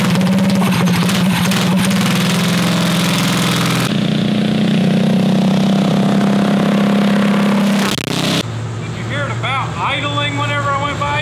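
A vintage racing kart engine runs loud and close, droning at a steady idle and then lifting briefly in pitch before cutting off, after which people talk over faint background noise.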